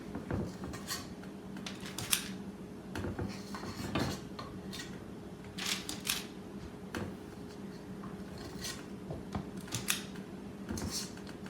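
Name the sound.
scooping cookie dough with spoons onto a pan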